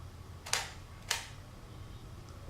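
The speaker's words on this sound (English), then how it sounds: "I'm going to press the shutter in the remote now" A camera shutter fired by a Viltrox JY-710 wireless remote gives two sharp, distinct clicks about half a second apart, close and fairly quiet, against a faint steady background hum.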